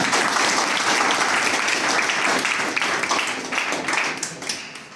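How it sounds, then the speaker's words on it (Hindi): An audience applauds a student who passed the CAT exam for IIM admission, a dense burst of clapping from many hands that stays full for several seconds before easing off slightly. "उसके लिए कम से कम तालियां हो जाते हैं"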